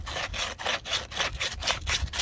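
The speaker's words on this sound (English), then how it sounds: "Before I cut the lines, I want to use some sandpaper and make it nice and clean." Sandpaper rubbing back and forth on refrigerant copper lines of a mini split system, a steady rhythmic scraping with about nine quick strokes, close and fairly loud with no talking.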